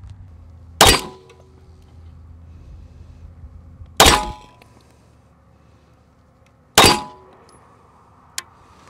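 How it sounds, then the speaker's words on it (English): Three loud 9mm pistol shots from a Staccato P firing Remington UMC 115 grain ammunition, each a sharp crack with a short decaying tail, spaced roughly three seconds apart, followed by a faint small click. "So our first three shots from the Staccato P are using Remington UMC 115 grain."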